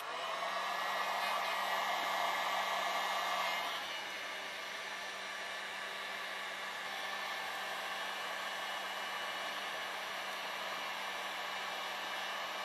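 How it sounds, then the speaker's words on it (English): A heat gun softens plastic poly, blowing a steady, close whooshing hiss that drops slightly in level partway through and then holds constant. "It need to heat it up to soften the material."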